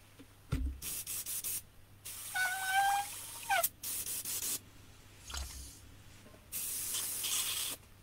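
An airbrush spraying paint onto an RC car body shell at reduced pressure, several hissing bursts of a second or two separated by pauses, close and fairly loud, with faint squeaks between bursts.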